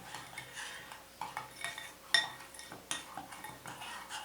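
A spoon stirs a plaster mixture for making magnets, giving repeated scraping clinks against the container in short irregular bursts, fairly close and moderately quiet, with no talking.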